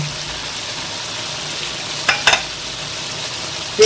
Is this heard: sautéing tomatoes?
yes